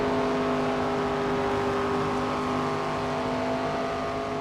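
Race car engine in NASCAR 25 at Dover, a steady loud drone with strong harmonic tones, held at a constant pitch from start to finish with no talking.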